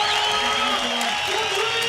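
Crowd applause and scattered cheers at an X Games skateboard vert contest in Barcelona, a steady, dense wash of clapping filling the arena.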